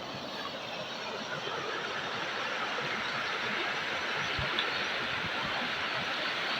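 Steady rush of the Ramphu stream flowing over its gravel riverbank between Kalimpong and Sikkim, a close, even broadband roar that holds constant with no voices.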